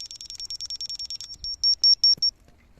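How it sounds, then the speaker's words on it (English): An electronic tool gives a quick run of short, high-pitched beeps, then several longer, evenly spaced beeps, clear and alone in a quiet room, while on a home building project in South Africa. "in line with the phone, it should beep"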